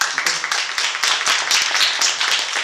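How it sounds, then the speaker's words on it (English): An audience at a Chicago games tech evening gives presenters a short round of applause, dense overlapping hand claps filling the room briefly. "Round of applause for our presenters."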